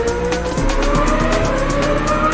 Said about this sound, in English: I'm driving around and with lots of confidence to slide the car around